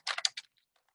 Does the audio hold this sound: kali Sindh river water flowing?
no